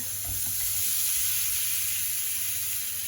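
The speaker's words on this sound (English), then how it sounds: "Make sure your pan is hot and then get your prawns in." Prawns sizzle steadily in a hot pan with about half a teaspoon of oil for Jamaican peppered prawns, a bright continuous hiss close up with a few soft stirring knocks near the start.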